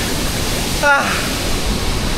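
Strong rushing flow of very cold mountain water, a steady loud broadband roar filling the whole stretch, with a brief voice cry rising over it midway.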